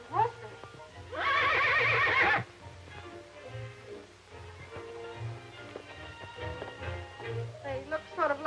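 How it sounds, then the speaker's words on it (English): A horse whinnies loudly for about a second near the start, followed by low rumbling and quieter animal and background sounds, with faint talk underneath. "They're very gentle horses, ma'am."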